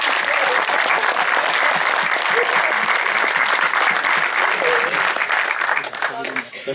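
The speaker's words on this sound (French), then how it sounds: "Applaudissements pour Pedro Almodóvar, Julianne Moore, Tilda Swinton" A cinema audience applauds Pedro Almodóvar, Julianne Moore and Tilda Swinton at a preview screening: dense, loud, sustained clapping filling the room throughout, easing slightly near the end.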